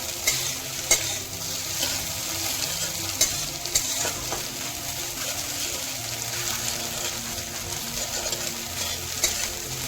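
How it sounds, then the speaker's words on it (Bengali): Eggs frying in a pan with a steady, close sizzle and scattered sharp crackles, continuous and without talk. "দেখো ডিমগুলো ভাজা হয়ে গেছে এবার আমি উঠিয়ে নেবো"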